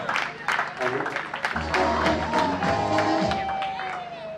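A crowd at a school prize ceremony applauds warmly, sustained dense clapping with cheers and whoops, loud and close, while voices talk and shout through it.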